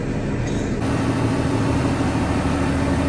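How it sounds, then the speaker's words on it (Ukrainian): A Fendt 942 tractor idles steadily in freezing weather, its diesel engine giving a constant low drone and hum close by, with no one talking. "Трактор"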